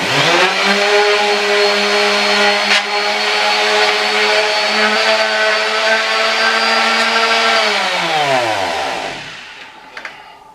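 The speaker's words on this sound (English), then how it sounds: "Give us a quick sand." Power sander smoothing a wooden window frame during home repairs, a loud steady motor whine running continuously for about eight seconds before spinning down and cutting off, with a couple of faint knocks after.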